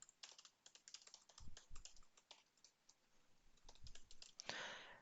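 Close, quiet typing on a computer keyboard while entering code, with rapid irregular key clicks in bursts, a short pause midway, and a few heavier thumps like the space or enter key, no talking.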